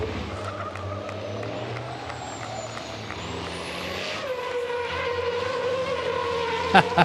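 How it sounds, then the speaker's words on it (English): Racing trucks drift at Le Mans with a roaring engine drone and a rising tire squeal across the track, while a commentator talks over the noise. "Some great drifting from him."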